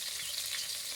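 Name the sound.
chopped onions and tomato frying in a pan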